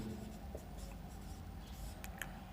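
Chalk or pen writing on a board in a classroom, heard as faint, steady scratchy strokes with no talking over them.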